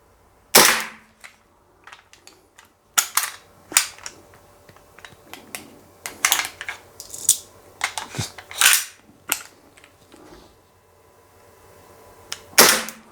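A G&G GPM1911 gas blowback airsoft pistol fires a string of sharp, loud cracks at uneven intervals, some shots spaced apart and others in quick pairs, with quiet gaps between them.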